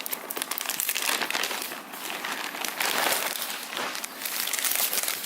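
Plastic dust bag crinkling continuously while football shorts from a 2019 BAPE x SOPH FCRB Bristol ABC Camo set are unboxed, close and steady with brief pauses, no talking.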